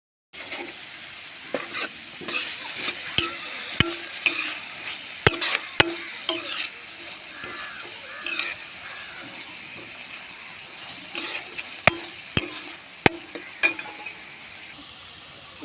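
Onions and green chillies fry quietly in a pan with a soft, steady sizzle, broken by scattered clinks and scrapes of a spoon stirring, close and low in level.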